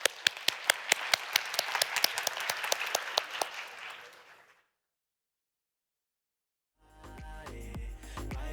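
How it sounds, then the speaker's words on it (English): A conference crowd at a LEADER 30-year celebration applauds the panelists with crisp, distinct claps that thin out and fade away. A stretch of silence follows, then a different sustained sound starts. "And a big applause to the panelists again."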